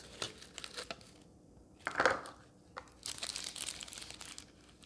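Glossy paper packaging crinkles and crumples as a new straight razor from Germany is unwrapped, close and fairly quiet, in irregular bursts with one louder rustle in the middle.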